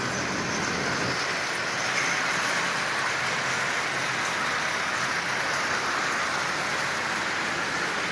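Marx 1666 model train locomotive running smoothly while pulling 20 cars, a steady, even whirring rumble that continues unbroken from start to end with no voices.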